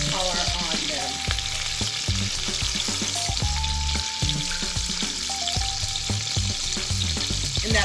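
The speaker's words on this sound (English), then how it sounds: "we're going to let these sear on each side for roughly about 10 minutes until we get a nice brown color on them" Branzino fillets sear in melting butter in a pan, giving a steady, close sizzle with crackling pops and occasional utensil clinks throughout.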